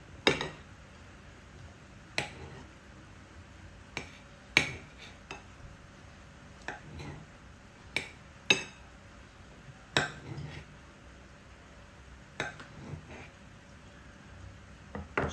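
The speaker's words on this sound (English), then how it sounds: "Now I will cut the Isan sausage" A knife chops through slightly spicy Isan sausage on a board, giving sharp, separate clicks and knocks at an uneven pace with quiet gaps between them. No one speaks.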